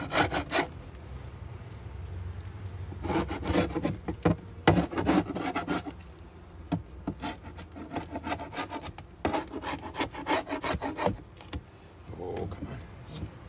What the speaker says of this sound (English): And just kind of scrape it off a bit too.